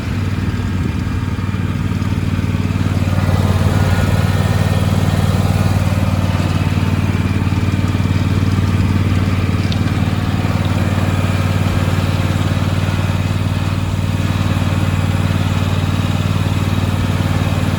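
A 2021 John Deere X350 riding mower rolls forward, its engine holding a loud, steady, close drone with a constant low hum throughout.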